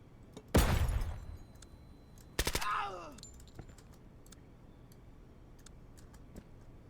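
In a hostage rescue video game, a sharp flashbang blast is followed by a quick burst of rapid gunfire, both loud and close, then faint ticking and clicks.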